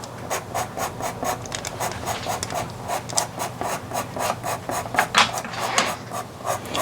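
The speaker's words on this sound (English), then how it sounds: "I'll sharpen up a blue that's a little bit darker" Blue pastel pencil being sharpened, a steady run of short rasping scrapes repeating quickly and close by, moderately loud with no talking.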